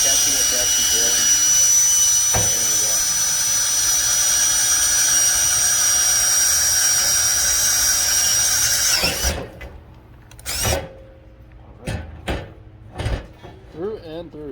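A power drill grinds through a 12-foot push pole clamped in a vise, a loud steady whine for about nine seconds, then stopping abruptly, followed by a few short bursts and clunks with a voice speaking nearby.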